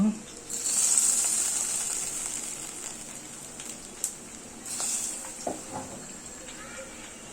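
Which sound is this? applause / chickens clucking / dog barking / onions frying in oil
onions frying in oil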